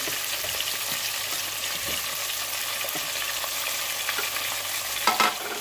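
Chicken added to chopped tomatoes and browned onions in a pot for Pakistani chicken aloo pulao, frying with a steady close sizzle and occasional stirring scrapes, with a louder clatter near the end.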